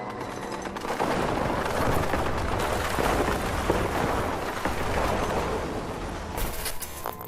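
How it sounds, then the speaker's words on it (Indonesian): Rapid, sustained bursts of aircraft gunfire fired at rocks, with heavy rumbling, a continuous loud barrage that lasts several seconds before easing. "mereka berputar balik dan melepaskan tembakan secara random ke arah bebatuan"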